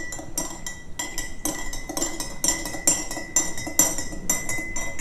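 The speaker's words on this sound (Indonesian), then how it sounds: "Nah, sekarang kita aduk" A spoon stirring water tinted with a few drops of betadine in a glass, producing rapid repeated bright clinks against the glass in quick bursts, close and clear with no talking.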